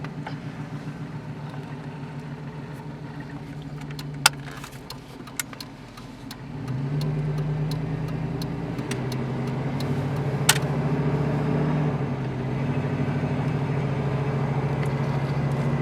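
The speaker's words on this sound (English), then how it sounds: "gonna go ahead and take a little drive" A GMT400 pickup truck with a cracked windshield drives down the road, heard from inside as a steady engine and road drone that swells louder partway through, with occasional faint clicks and rattles.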